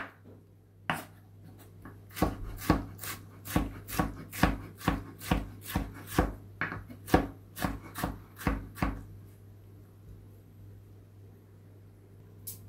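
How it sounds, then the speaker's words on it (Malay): A knife finely chops cucumber on a board for sambal timun: about fourteen crisp, evenly paced chops, close and distinct, then quiet, with no voices. "Timun pun kita akan cincang halus juga, sama macam kita buat nanas tu."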